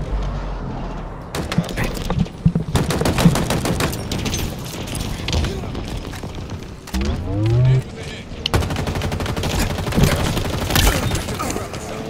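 Rapid gunfire bursts and shots from the video game Halo Infinite, loud and dense with a brief pause and vehicle-like whir, continuing in repeated volleys throughout.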